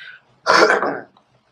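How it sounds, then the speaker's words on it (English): A single harsh cough, close and loud, a rough half-second burst followed by quiet. "We gotta talk about that cough you just did."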